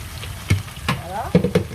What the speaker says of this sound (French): Donc je viens verser comme ceci.